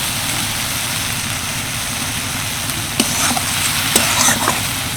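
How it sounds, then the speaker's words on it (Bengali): Spice masala with whisked sour yogurt stir-fried in a pan for soybean kofta curry, with a steady loud sizzle and a low hum beneath, plus a few sharp scraping clicks of the spoon toward the end. "দই দিয়েও বেশ কিছুক্ষণ কষিয়ে নিলাম"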